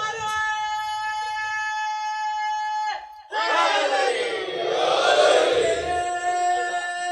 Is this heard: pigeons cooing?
no